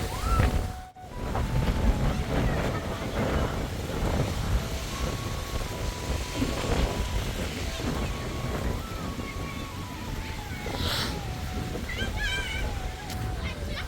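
Strong storm wind roars steadily across a wetland ghat, with a loud continuous rushing and buffeting and faint water sloshing beneath it.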